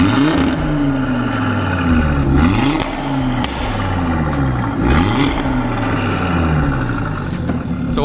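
An Audi RS3 8V with a Milltek downpipe and Forge Motorsport intercooler, with a broken valve clip, revs repeatedly; its engine note rises and falls in loud, close sweeps with a rough rattling edge, and a voice can be heard faintly.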